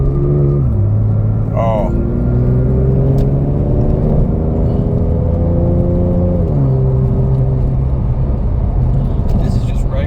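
A tuned Porsche 991 Turbo with over 650 hp cruises at light throttle, a steady engine drone with rising and falling tones from inside the cabin as people talk over it.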